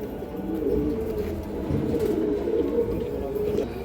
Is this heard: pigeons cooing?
yes